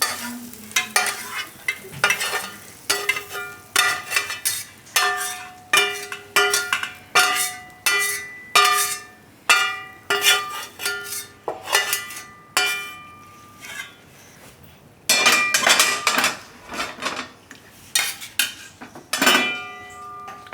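Cooked paneer mixed vegetables being scooped from a pot into another vessel, with a long series of sharp metal clinks and scrapes of ladle against pot rim, steady and rhythmic, briefly pausing before a louder cluster of clatter.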